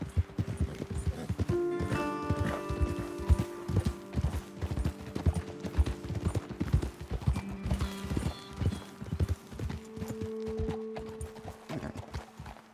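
Horses gallop with steady rapid hoofbeats and neigh loudly now and then in Red Dead Redemption 2, the clip-clop continuous and close throughout.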